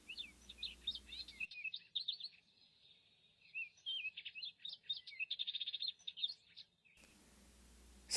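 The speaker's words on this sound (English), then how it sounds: "It might be a little hard to hear, but there are birds chirping." Birds chirp in an RPG Maker indie game, bursts of bright, rapid tweets and trills in two main phrases separated by a short pause, fairly clear over a quiet background.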